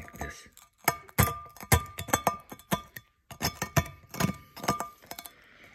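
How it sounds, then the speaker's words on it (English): Metal scraper working baked grease and grime off a cast iron skillet, heard as a series of close, sharp scraping and clinking strokes in an irregular rhythm with brief pauses between. "the baked grease and grime will start falling apart, and then you just scrape it"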